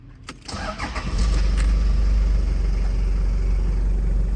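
A 1996 Toyota Hiace Super Custom turbo diesel 4WD cold starts: a brief cranking clatter, then the engine catches and settles into a loud, steady, low diesel rumble up close.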